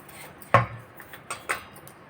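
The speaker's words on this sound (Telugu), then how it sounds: "సరిపడంత షుగర్ వేసుకొని ఇలా కలిపేసుకోవాలి." A spoon clinks and scrapes against a bowl while powdered sugar is mixed into homemade cake batter, a few sharp taps and softer strokes close up in a quiet room.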